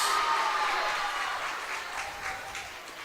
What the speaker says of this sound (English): So large crowd here tonight.